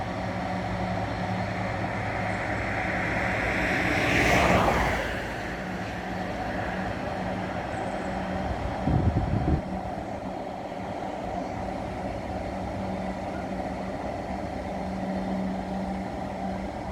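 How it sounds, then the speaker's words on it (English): A freight train passing near a railway tunnel at Crick, a distant continuous rumble with a brief louder swell and a short low thump partway through, heard outdoors with no talking. "that's another freight train as well, isn't it?"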